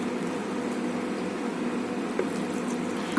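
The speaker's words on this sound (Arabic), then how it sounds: "هنقوم نازلين بربع كوبايه لبن" Milk poured into a blender jar over three scoops of vanilla ice cream gives a steady, close liquid wash and hiss that runs unbroken throughout, with no talking.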